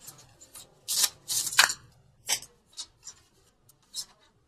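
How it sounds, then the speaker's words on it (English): Angel cards being shuffled by hand give several short, crisp riffling bursts, some quick and closely spaced, others single, fairly close and quiet with no talking. "keep shuffling."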